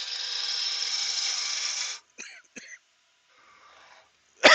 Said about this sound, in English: At least when I sneeze, I don't do it down the mic.